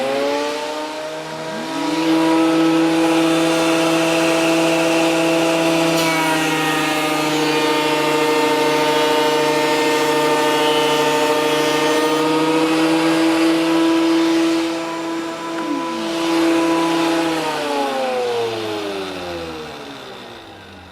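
A Ryobi AP1305 12-1/2-inch thickness planer spins up with a loud motor whine, then snarls steadily as a wood board feeds through for about fifteen seconds before the pitch rises and the cut ends.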